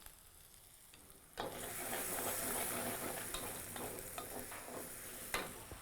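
Ginger and green chilli drop into hot oil, setting off a sudden loud, steady sizzle after a quiet start, with a few spoon clinks on the pan.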